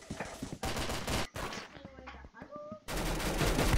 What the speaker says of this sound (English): Like this, SMG9. Submachine gun.